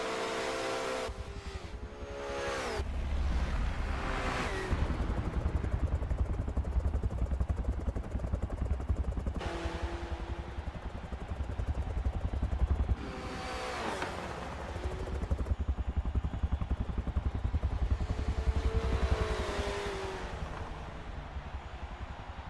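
A Porsche race car engine in a racing-sim broadcast of a two-hour Suzuka endurance race drones steadily at mid volume. Revs climb and fall repeatedly through gear shifts, with a few sharper rising surges as the car accelerates.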